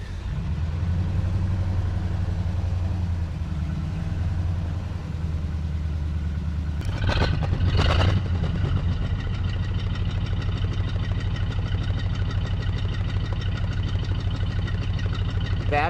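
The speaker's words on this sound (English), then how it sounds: "That is the sound of a flathead." A 1936 Ford Roadster's flathead engine idles steadily up close, a continuous low rumble with a brief burst of clatter partway through before it settles back into an even idle.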